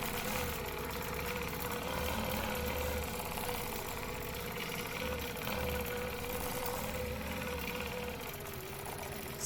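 A sewing machine stitches a stencil design around a center circle, running as a steady, continuous mechanical whir with a faint rhythmic thrum throughout.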